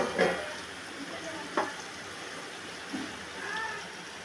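Hilsa fish and eggplant frying in hot oil in a pan, a steady soft sizzle running throughout with a few brief clinks of a utensil, fairly quiet and close with no talking.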